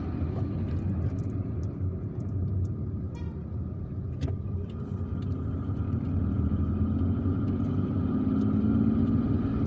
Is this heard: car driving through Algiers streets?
yes